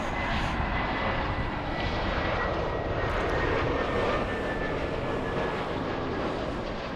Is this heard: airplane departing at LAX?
yes